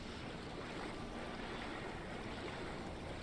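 Water in the video game Final Fantasy XIV while a character swims, a steady, dense rushing wash like surf that holds at an even level without pause.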